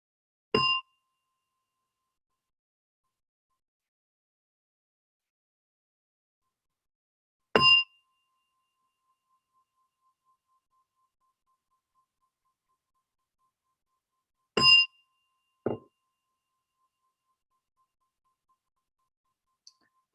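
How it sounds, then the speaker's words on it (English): A gong marking the end of a meditation session is struck three times at even intervals of about seven seconds, each a short bright ringing hit in otherwise total silence, with a softer knock after the third. "as you hear a gong"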